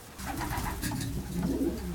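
Racing pigeons coo softly inside a loft, low throaty burbling close by with a faint background hum and no speech.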